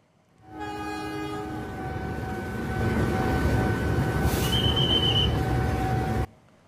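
Passenger train rolling through a level crossing at Pasar Senen, Jakarta, a steady loud rumble with a sustained horn blast on top, a higher whistle tone briefly joining midway, no voices.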